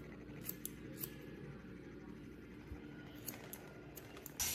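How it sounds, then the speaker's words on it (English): Scissors snipping through a person's hair at home, a series of quick, crisp clicks spaced irregularly, close and fairly quiet over a low background hum. "we're about to cut his hair"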